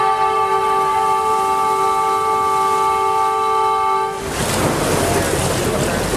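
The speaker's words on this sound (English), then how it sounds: "As we enter the water, I do need to sound the horn." A loud, sustained amphibious Duck Tour boat horn in Boston blares for about four seconds as the boat enters the water, then cuts off into a rush of splashing water and noise.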